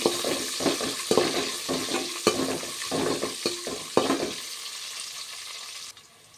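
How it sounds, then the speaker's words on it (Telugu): Onions and curry leaves sizzle in a pan, with rapid clattering spoon strokes stirring them through the first four seconds, then a steadier, quieter hiss of frying oil until the end. "ఆనియన్స్ కరివేపాకు వేసేస్తున్నాను, వేసి కలిపేస్తున్నాను."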